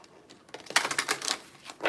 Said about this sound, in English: I really feel like I don't know how to shuffle.